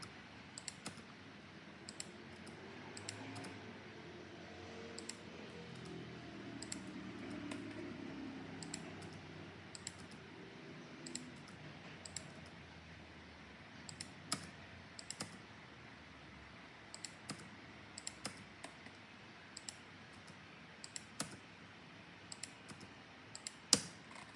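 Computer keyboard keys clicking in scattered bursts, several sharp presses near the end, close and clear with no talking.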